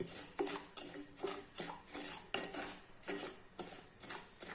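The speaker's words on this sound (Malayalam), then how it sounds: "1 കപ്പ് റവ എടുത്ത് നമുക്കൊന്ന് മൂപ്പിക്കണം. ഒരു മണം വരുന്ന വരെ നമുക്ക് ഇളക്കിക്കൊണ്ടിരിക്കണം." A spoon scrapes and stirs semolina dry-roasting in a pan, a steady rhythmic sweep repeating about every half second, quiet and close with no voices.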